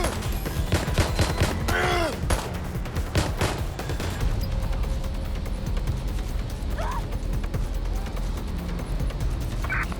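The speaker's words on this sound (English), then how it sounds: "Trying out my new shotgun." A shotgun fires repeatedly in the Watch Dogs Legion video game, with loud, close, sharp blasts clustered in the first seconds amid dense chaotic game noise and a brief whistling sweep, then a busier, rumbling background.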